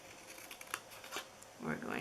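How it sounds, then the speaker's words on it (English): Scissors snip paper for a mini Easter egg treat box, with a few quiet, crisp cuts spaced unevenly and a rustle of paper handling toward the end, close and faint. "we're going to cut up each one of these."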